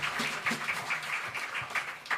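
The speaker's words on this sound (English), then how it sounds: "Give her a round of applause." Audience applause after a trombonist is introduced at a jazz concert, a steady dense wash of clapping lasting about two seconds with no voices over it.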